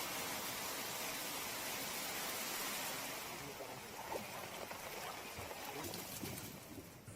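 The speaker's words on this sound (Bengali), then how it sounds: "আবার তো কাল রাত থেকে বিশাল বৃষ্টি আবার জল বাড়ছে" Heavy rain during flooding in Khanakul, a dense steady broadband hiss of falling water that softens slightly after a few seconds, with no talk.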